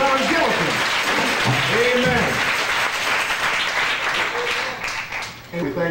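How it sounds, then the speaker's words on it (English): Church congregation applauding in praise at a Sunday service, steady clapping that swells and then thins toward the end, mixed with voices and cheers. "Give the Lord a hand clap of praise for Dr. John Gillison."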